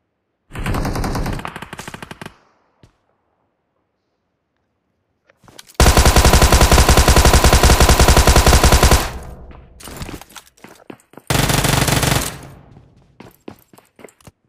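Automatic gunfire from a zombie-mode mobile shooter game played on an iPad Air, heard as three loud, sustained bursts of rapid shots separated by silence, the middle burst the longest.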